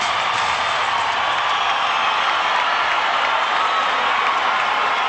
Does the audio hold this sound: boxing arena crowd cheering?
yes